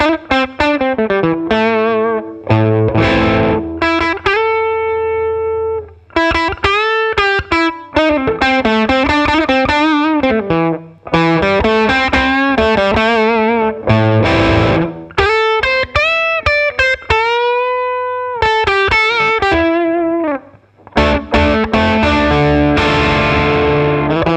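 Distorted electric guitar played through a Marshall cabinet fitted with a Celestion speaker, loud and saturated, with sustained chords and melodic single-note runs broken by brief pauses, no talking.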